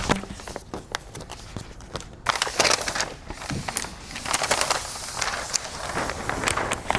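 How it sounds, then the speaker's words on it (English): Protective liner peeling off TPU tint film during installation on a Tesla Model Y rear windshield: a continuous crackly, papery tearing that grows louder partway through, with sharp crinkles close by. "Go ahead and remove that. Go ahead, just peel."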